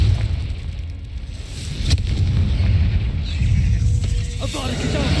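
In the Hogwarts Legacy video game, a Confringo fire spell lets off a deep rumbling blast. Low booming and roaring hold throughout, with sharp cracks and a faint shout layered over the din.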